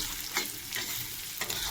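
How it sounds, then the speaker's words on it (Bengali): Potatoes and coconut fry together in a pan, a close, steady sizzle with a few quick stirring scrapes, no voices. "দেখো লাল লাল করে নারকেল আর আলুটা ভাজা হয়ে গেছে"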